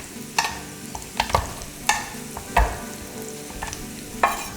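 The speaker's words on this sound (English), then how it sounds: "So we have these onions frying up nice, getting some good color." Red onion frying in olive and sesame oil with garlic and chili, a continuous close sizzle broken by repeated sharp scrapes and knocks of a utensil stirring the pan.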